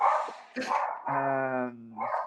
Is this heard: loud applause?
no